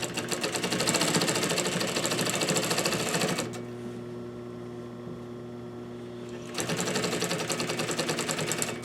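Sewing machine stitching fabric for a Parson's chair slipcover, its steady rapid needle chatter running loud and close, pausing briefly to a quiet hum mid-clip before starting again.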